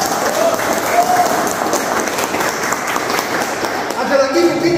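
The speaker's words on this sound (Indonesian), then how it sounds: "Bagus, tepuk tangan." An audience claps loudly and steadily for a few seconds, with crowd murmur and a voice speaking over the applause.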